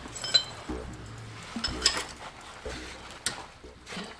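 Metal hardware bolts from a 1968 BMW 2002 differential job clink and rattle as they are gathered and set back in place, several sharp, close metallic chinks scattered across a quiet workshop background.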